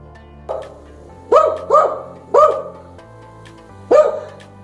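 A dog barks close by, five sharp barks in an uneven rhythm over a low background hum, with no one talking.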